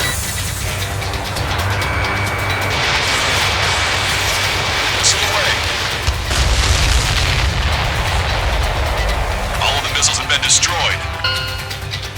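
Missile explosions in the Ace Combat 7 flight game, heavy rumbling booms and blasts over a constant roar of jet engines, loud and close, with radio voices talking throughout.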